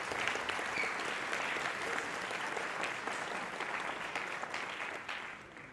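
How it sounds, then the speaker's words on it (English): Sustained applause from an audience at the Helsinki Challenge award party, a dense, steady wash of clapping that holds at full strength and eases slightly near the end. "let's give them a warm round of applause for the work they do"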